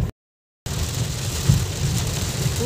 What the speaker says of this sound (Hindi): ये होती है मूसलाधार बारिश, रुकी नहीं रही।